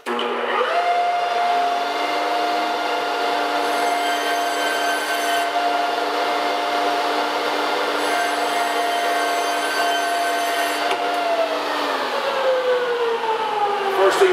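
Large drum sanding machine runs steadily in a loud, constant whine with a strong tonal hum that shifts pitch slightly as it ramps, sustained close up for the whole stretch without talk.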